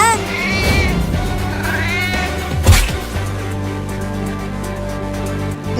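A cartoon cat meows in a few rising, wavering cries near the start, mixed with cartoon voices and a sharp thump midway.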